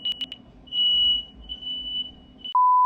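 A smoke detector chirps in quick high beeps, then sounds a sustained shrill alarm tone, followed by a sharp switch to another steady electronic tone at the end, close and loud in a quiet room.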